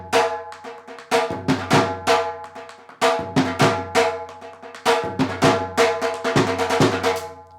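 Dhol drum playing a full Bhangra sequence: dense, driving strokes in repeated phrases of a few seconds each, loud and close-miked, mixing deep bass thumps with sharp high slaps, no voices.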